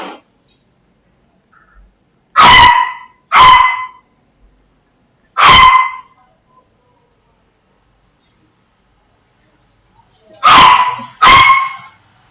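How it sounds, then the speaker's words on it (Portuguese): A dog barks in short bursts: a quick pair, a single bark, then another pair after a long quiet gap, loud and close. "Meu cachorro tá latindo aqui"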